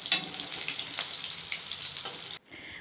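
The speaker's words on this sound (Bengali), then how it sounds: "অল্প অল্প করে মাছগুলোকে আমি ভেজে নেব যাতে ভেঙে না যায়" Pieces of rohu fish fry a few at a time in hot oil in a wok, a close, steady, crackling sizzle that cuts off near the end and drops to a quieter hiss.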